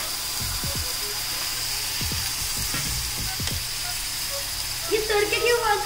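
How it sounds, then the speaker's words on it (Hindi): Steady sizzle of spices tempering in hot oil, close and continuous, with occasional clinks and a voice talking briefly near the end. "तड़के की आवाज आ रही है, तड़का कर रहे हो आप?"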